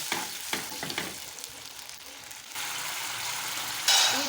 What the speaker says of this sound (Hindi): अब इसके अंदर हम डालेंगे टमाटर, जो हमने टमाटर पीसा था, ये टमाटर डाल दिया है हमने।